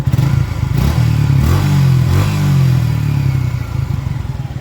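Close-up motorcycle engine running at idle, loud and even with a low pulsing rumble and light mechanical clatter, no voices.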